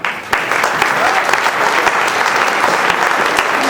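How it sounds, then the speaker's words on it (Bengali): Audience applause for a stage director at a Christmas 2013 event, dense steady clapping from a full room lasting throughout with no talk over it. "আমরা সবাই জোরে তাদের জন্য করতালি দেই"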